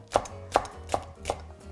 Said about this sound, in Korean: 홍고추 이렇게 그냥 송송 써시면 됩니다.